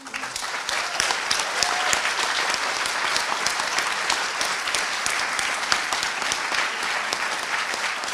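A conference audience at a closing ceremony applauds its hosts, a dense, even stretch of clapping that holds steady throughout.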